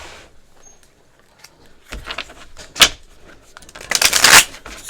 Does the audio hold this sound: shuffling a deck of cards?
yes